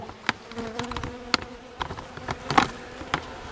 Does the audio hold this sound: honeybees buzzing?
yes